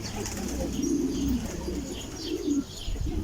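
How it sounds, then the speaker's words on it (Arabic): Soft pigeon coos murmur in a few low, rolling phrases against faint outdoor background noise. "هاي الحمام."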